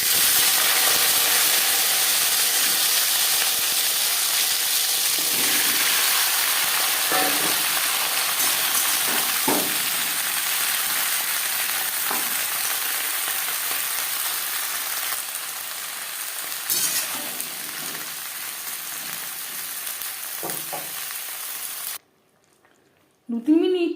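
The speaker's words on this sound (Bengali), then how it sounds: "15-20 সেকেন্ড ভেজে নেওয়ার পর দিয়ে দেব শিম।" Beans fry in refined oil for a winter vegetable curry, a steady dense hiss and sizzle that holds for about twenty seconds with faint clatters, then cuts out near the end.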